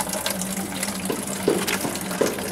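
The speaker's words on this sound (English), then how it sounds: "There's the watering can, which I will fill up the water." Water running from a tap into a watering can in a city garden, a steady gushing fill with gurgles and splashes as the level rises, close and alone.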